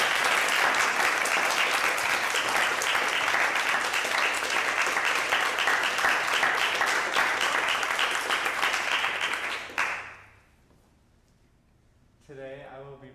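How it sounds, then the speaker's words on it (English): A roomful of people claps at a music forum before a performer takes a turn, loud sustained applause for about ten seconds that fades out, followed by near silence and then a voice speaking. "And we're gonna clap, right?"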